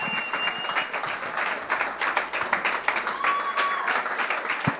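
Audience clapping fills a hall, a continuous ripple of many hands at a lively pace, fairly close and steady throughout.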